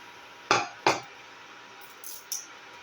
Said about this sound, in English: And the black pepper seeds. Into the pan.